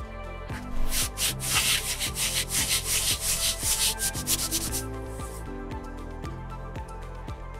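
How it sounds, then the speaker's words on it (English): Rhythmic back-and-forth sanding of polymer filler in a timber repair, with steady close rubbing strokes on wood for several seconds. "And then I'm going to give that a quick sand."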